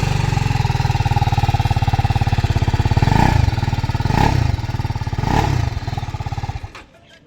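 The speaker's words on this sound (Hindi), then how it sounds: "एग्जॉस्ट साउंड कैसे करता।" A TVS Apache RR310 motorcycle exhaust idles with a close, rapid thumping pulse, swells through three short throttle blips, then the engine cuts off and falls quiet.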